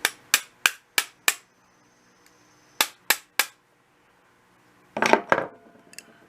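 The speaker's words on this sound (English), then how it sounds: "If you tap on this with a hammer" Sharp metallic taps of a hammer on an old screwdriver ring out in a quick run of five, pause, three more, then a louder scraping clatter.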